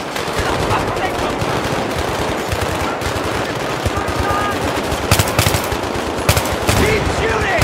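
Sustained automatic gunfire in Battlefield 3, rapid machine-gun bursts rattling continuously and loudly with occasional sharper louder shots standing out near the end, a dense close firefight.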